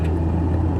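A car's engine rumbles low and steady while driving, a continuous close drone with no voices over it.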